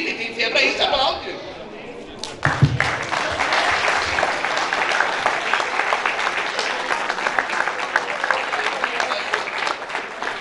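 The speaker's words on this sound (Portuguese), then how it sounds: "aplaude" A church congregation at an anniversary celebration bursts into loud, sustained clapping after a brief voice at the start, the dense applause continuing evenly with some chatter mixed in.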